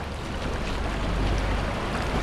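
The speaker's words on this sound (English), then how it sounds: "Another boat is coming." A boat motor rumbles on a lagoon during an island-hopping tour near El Nido, Palawan, a steady low drone mixed with wind and water noise.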